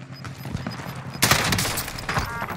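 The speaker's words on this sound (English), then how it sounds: "Taking fire!" Gunfire crackles in a Call of Duty multiplayer match, starting as sparse distant shots and bursting into a louder fusillade of rapid automatic fire midway through the short stretch.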